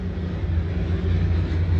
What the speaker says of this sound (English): Oh, look at the plane goes by too.